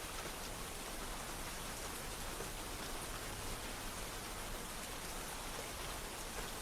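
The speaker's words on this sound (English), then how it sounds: "The rain is still falling" Steady rain falls without a break, a dense, even hiss of drops on surfaces that stays at one level throughout, with no voices or thunder.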